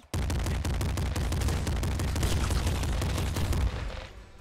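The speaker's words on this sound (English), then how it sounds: "Regular shotgun." Rapid, continuous volleys of shotgun blasts in the video game Nuclear Throne, dense and punchy for nearly four seconds before cutting off abruptly.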